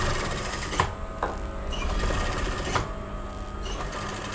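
A sewing machine stitching over paper fusing around a suit neckline, a steady close whirring run broken by two brief pauses before starting again.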